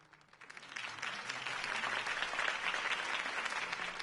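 Crowd applause at a political campaign rally in a Batman video game swells from quiet to a steady, broad wash of clapping that continues without pause.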